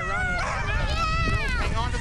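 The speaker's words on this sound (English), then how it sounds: "There are 8 dogs leading this rig." Team of eight greyhound-mix sled dogs hitched to a dog sledding rig at a winter lakeside lodge, yipping and barking excitedly close by amid background crowd chatter.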